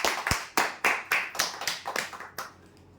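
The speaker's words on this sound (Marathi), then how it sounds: "जोरदार टाळ्या त्यांच्यासाठी" A small audience clapping for a prize winner at a lottery-style draw, a short run of separate, fairly close hand claps in an uneven rhythm that thins out and fades after about two and a half seconds.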